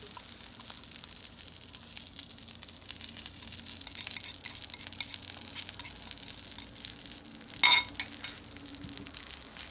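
An egg dropped into melted butter in a pan sizzles and crackles steadily, quiet and close, with a brief clink of utensil or shell partway through.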